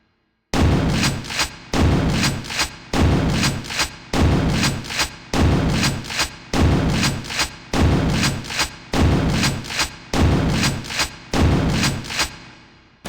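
Super Shotgun in Quake 2 firing repeatedly, about ten heavy, resonant blasts at a steady pace, each followed by a mechanical cycling of the action, loud and close with no talk.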